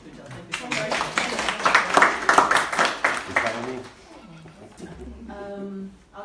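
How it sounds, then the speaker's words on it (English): Brief clapping at a women's network event rises for a couple of seconds amid voices, then fades as people keep talking. "So, a round of applause for Pooja."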